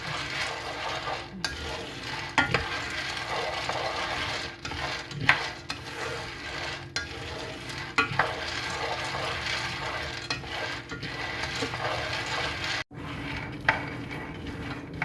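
Peanut brittle stirred nonstop in a pan, with steady scraping and scratching of a utensil against the metal and occasional sharp clinks, all over a constant soft sizzle and no voices.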